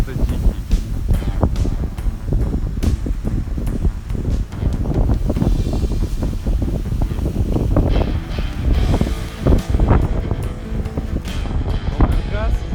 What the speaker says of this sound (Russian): Ветер просто дикий.